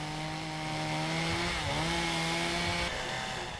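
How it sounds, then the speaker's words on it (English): A chainsaw carves the center out of a giant block of ice to form a bowl. Its engine drones loud, close and steady the whole time, with slight shifts in pitch as the blade bites. "He used his chainsaw to carve out the center of the bowl, then buffed out the raw edges."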